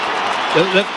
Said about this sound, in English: the cheer is for Nick Dacos as he comes onto the ground